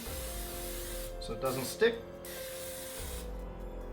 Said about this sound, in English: Now what I'm going to do is spray it with some cooking spray